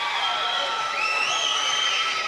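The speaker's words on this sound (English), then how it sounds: "There's a big cheer" Crowd cheering at the British Swimming Championships 2016, a steady roar of shouts and whoops filling a large indoor pool hall, sustained throughout with rising high-pitched yells.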